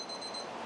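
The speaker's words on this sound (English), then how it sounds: "the alarm is going off" A pellet smoker's alarm beeps, a thin, steady electronic tone sounding faintly and alone over low background hum.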